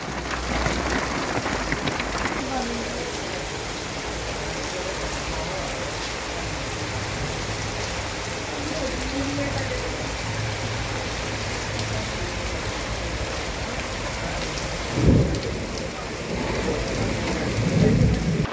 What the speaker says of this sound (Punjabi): ਮੀਂਹ ਪੈਣਾ ਸ਼ੁਰੂ ਹੋਇਆ